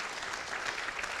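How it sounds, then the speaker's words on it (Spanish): A church congregation applauds in a steady, even wash of clapping, moderately loud and with no distinct voices. "vamos a aplaudir para recibir la palabra"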